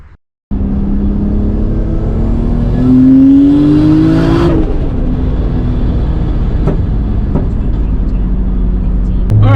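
A 1996 Toyota Supra's engine runs steadily close by, rising in pitch as it revs, then drops back to a steady hum, with a faint thump near the end.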